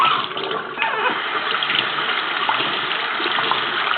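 Lukewarm water runs steadily over sprouted seeds being rinsed, a close, continuous splashing stream with no pauses throughout.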